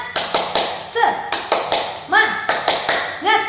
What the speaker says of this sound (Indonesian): Nah, anak-anak, kita tepuk semangat